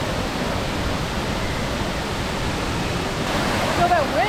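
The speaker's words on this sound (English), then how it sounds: "you feel the wind like as soon as you get close to the waterfall. It's so powerful." A powerful waterfall at the Grutas de Tolantongo hot springs, a dense, loud, unbroken roar of falling water, with a short whistle-like chirp near the end.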